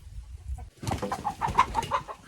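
Master Grey chickens cluck softly and repeatedly nearby, a busy run of short clucks over low rumbling background noise.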